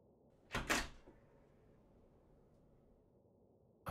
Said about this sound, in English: I'm sorry to knock so late.